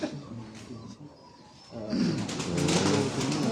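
Pigeons coo on a rooftop loft, low throaty murmurs under steady rumbling outdoor noise that grows louder partway through.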